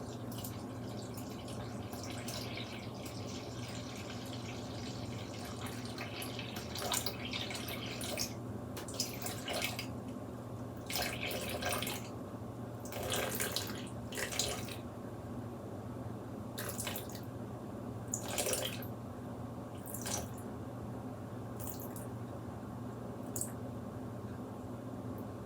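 Filtered water poured into a bowl set on a kitchen scale for sourdough bagel dough, a soft continuous trickle with scattered splashy drips over low room hum.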